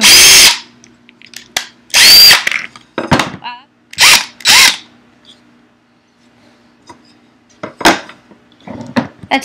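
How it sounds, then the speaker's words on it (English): A power drill with a big bit drives through wood in several short, loud whirring bursts separated by pauses, with clatter and brief voices in between. "That's one big drill bit."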